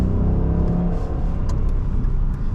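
A 2006 Mercedes-Benz E500 4Matic accelerates, its engine a steady, loud low rumble and whir heard from inside the cabin, rising slightly throughout.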